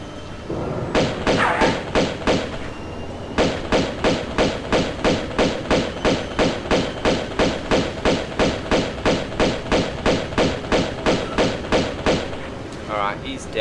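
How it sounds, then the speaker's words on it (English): Rapid, evenly spaced pistol shots in Tomb Raider II Remastered on the Offshore Rig level, a long steady volley of sharp thuds with a short break near the start, loud and close, with talk over the shooting. "I think using the pistols would be alright"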